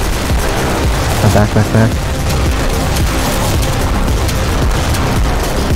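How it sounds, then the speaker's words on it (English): Minigun fire from a heavy player in Team Fortress 2 zombie escape mode: dense, continuous rattling gunfire with booms, running loud throughout amid a busy multiplayer battle, with a brief spoken word over it. "you don't have to keep minigunning if you're about to get hit"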